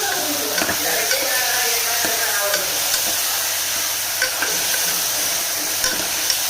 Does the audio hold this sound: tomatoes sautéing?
yes